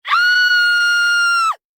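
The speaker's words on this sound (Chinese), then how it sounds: "同一时刻震惊地大叫起来，满脸惊慌地逃出房间，尖叫声传遍周围500米范围" Women scream in shock with one loud, sustained, high-pitched shriek of about a second and a half that ends abruptly, with nothing else heard.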